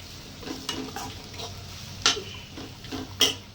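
Spices temper in about 50 ml of hot oil for a seasoned curd recipe: a soft, close crackle punctuated by several sharp clinks of a spoon stirring against the pan, with no talking.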